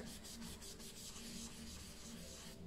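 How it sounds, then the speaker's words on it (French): A large brush drags and rubs oil pastel across watercolour paper in quick repeated back-and-forth strokes, a close, soft, scratchy rhythmic scrubbing with no voices. "je vais prendre la plus grosse brosse et on va essayer d'étaler ça"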